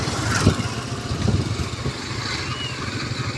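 A motorcycle engine hums steadily while riding through a market area on a mild day, with a low rumbling drone and wind noise close by.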